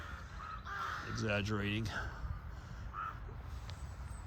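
Crows caw by a little pond, one harsh, rasping call rising mid-clip over steady outdoor ambience, while a person speaks briefly.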